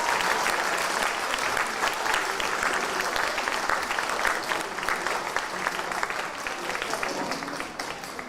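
An audience at a learning disabilities and autism leaders' awards ceremony claps steadily for a speaker, a dense, even wash of hands that eases slightly toward the end.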